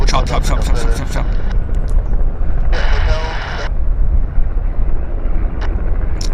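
A Bell 206 helicopter rumbling nearby at Vancouver Airport with rotor thumps and a bright turbine whine that rises and cuts out, mixed with wind buffeting.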